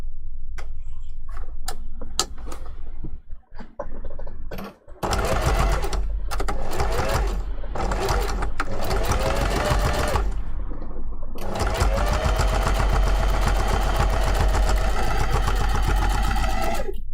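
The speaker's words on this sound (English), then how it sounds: "We're going to sew this down there." A sewing machine stitches a fursuit appliqué hand paw with a 5mm seam, starting in short stop-start bursts of rapid ticking, then running in longer steady whirring stretches close by.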